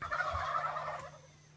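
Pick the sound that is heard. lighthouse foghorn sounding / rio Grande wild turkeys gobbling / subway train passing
rio Grande wild turkeys gobbling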